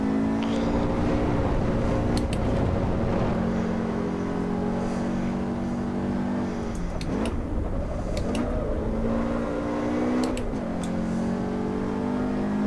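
A 1980s Mercedes-Benz race car in Assetto Corsa EVO, its engine droning steadily at high revs with several shifts and dips in pitch as it brakes and accelerates, loud and close with no talking.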